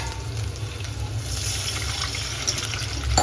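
Water pours in a steady, hissing stream into a pan for farali dhokla in a home kitchen, close and continuous, with a small clink near the end.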